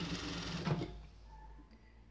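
A sewing machine stitches fabric in a short, close burst of mechanical whirring that quickly fades to quiet.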